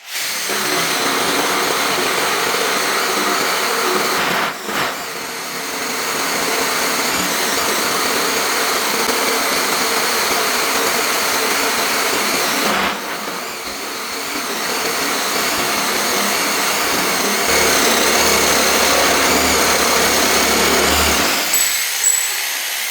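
A jigsaw cutting 3/8 inch metal plate runs loud and continuous, a harsh buzzing rasp that stops briefly twice as the cut pauses, then ends abruptly near the close.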